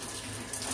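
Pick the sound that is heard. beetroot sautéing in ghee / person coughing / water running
water running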